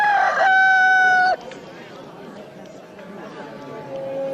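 A rooster gives a loud, close crow in a film, followed by a quieter stretch of low voices and clucking in the background.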